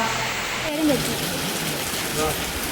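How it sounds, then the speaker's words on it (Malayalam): Steady rain hisses throughout, a dense broadband wash with faint voices murmuring underneath. "ഭയങ്കര മഴ പുറത്ത്."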